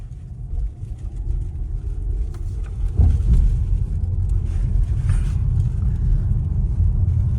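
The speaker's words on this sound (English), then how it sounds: "And this car doesn't have a fakey electric sound. That's actually the sound from the electric motors." Polestar 2 electric car driving, its real motor sound a low steady hum and road rumble heard from inside the cabin, rising slightly around the middle with faint whine, no speech.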